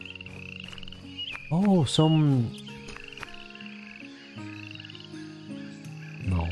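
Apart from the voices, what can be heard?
frogs croaking at a swamp in the video game Midgard Online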